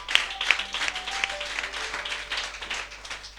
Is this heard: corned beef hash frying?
no